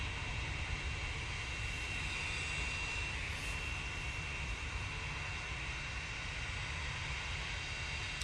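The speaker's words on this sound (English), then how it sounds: "We've got the Cessna Citation XLS ready to go next" A Cessna Citation XLS business jet departs from Manchester Airport, a steady, fairly faint broadband jet roar holding evenly throughout with no talk over it.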